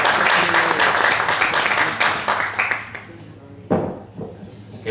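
Loud, sustained applause from a conference audience in Benidorm, many hands clapping steadily before tapering off into scattered claps.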